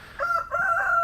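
A rooster crows loudly and close by inside a small backyard chicken coop, one strained, wavering call that rises after a brief opening note.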